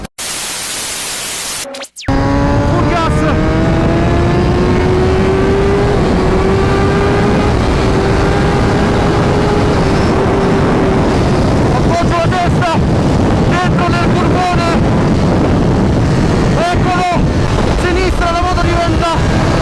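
Race car lapping the Vallelunga circuit, loud engine note climbing through gears with rising and falling whines, heavy wind buffeting and gear changes over about twenty seconds after a brief burst of static at the start.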